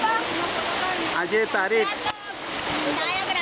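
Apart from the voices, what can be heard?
Chimer waterfall in Dang, Gujarat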